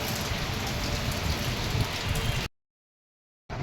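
Heavy rain pours in a dense, loud, steady hiss that cuts off abruptly to silence, then resumes briefly at the end.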